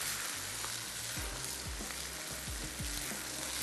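Mushroom rice being stirred and mixed in a hot pan, with a steady sizzle and a few scraping strokes of a spoon close by, no voices.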